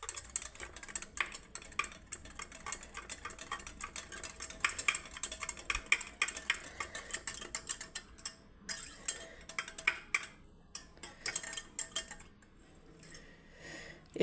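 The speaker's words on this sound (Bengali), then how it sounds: "এবার ছাতুটাকে খুব ভালোভাবে ফেটিয়ে নিচ্ছি" Sattu (chhatu) flour being whisked in a bowl, a quick, steady run of light clinks and scrapes against the bowl that thins out and turns more sporadic toward the end, with no one speaking.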